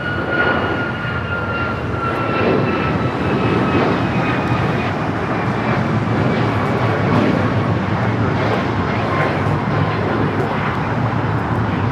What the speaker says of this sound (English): 2667 taking off to Washington Dulles on the MAX 9.